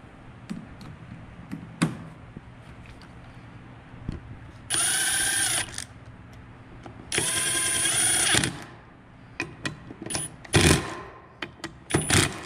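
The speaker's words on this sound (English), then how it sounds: "I'm just running this down, but follow the torque instructions" A power driver spins down fasteners on a SkyTrax Phazer gearbox in two firm whirring bursts of a couple of seconds each, separated by clicks and handling noises, with a shorter buzz near the end.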